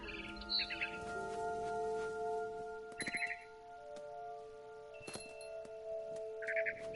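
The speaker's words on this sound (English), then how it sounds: "It was a barn swallow going back to her nest." A barn swallow chirps in the video game What Remains of Edith Finch, giving short high twittering bursts at three points over a quiet, steady humming game ambience.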